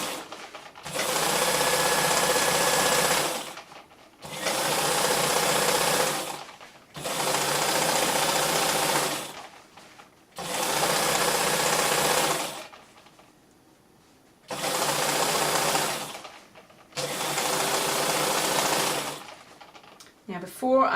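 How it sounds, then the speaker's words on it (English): Sewing machine stitching a side seam on a drawstring bag, six steady whirring runs of rapid needle clatter, each a couple of seconds long, with short pauses between and brief talk in the gaps. "do a couple of stitches, back stitch to hold it in place, and I'm just using my presser foot as a guide"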